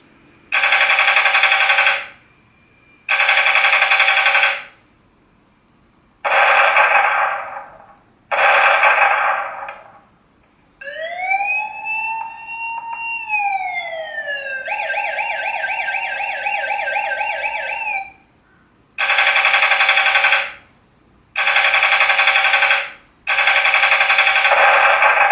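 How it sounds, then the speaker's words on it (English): A bear-deterrent patrol robot plays loud gunfire bursts in separate groups, with a rising and falling electronic siren wail in the middle and more bursts after it. "I made 4 buttons here to play gunfire, explosive, and silent sound."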